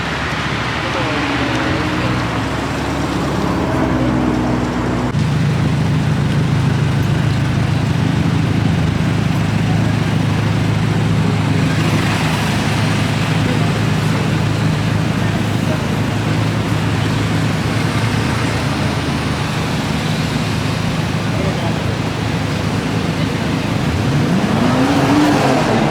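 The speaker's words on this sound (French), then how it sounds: "Ouais, c'est une voiture américaine." An American car's engine drones steadily from inside the cabin while driving in Japan, a continuous loud hum that swells slightly near the end, with people talking over it throughout.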